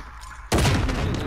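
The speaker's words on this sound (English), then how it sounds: "It's a shotgun." A single loud, booming shotgun blast in Call of Duty Modern Warfare, on the Rust map, hitting abruptly after quiet and trailing off into a rumbling tail.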